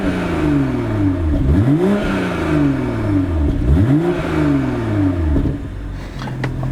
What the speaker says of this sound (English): we can test out this exhaust